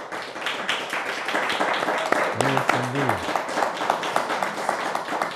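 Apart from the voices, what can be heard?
audience applause for guests at a show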